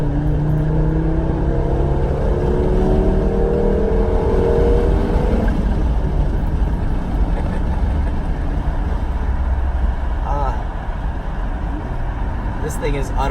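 A turbocharged 1997 Volvo 850 pulls hard under acceleration, its engine note climbing steadily for several seconds before settling into a loud, broad road-and-engine roar that continues to the end.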